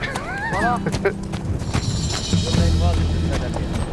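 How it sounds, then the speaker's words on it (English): An Arabian horse gives a short rising whinny near the start, followed by shuffling, hoof-like knocks and movement, with voices faintly in the background. "I've been on horses before, but not an Arabian horse."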